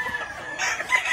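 A Sweater and Kelso gamefowl rooster on a farm in the Philippines gives a brief, close crow lasting about a second.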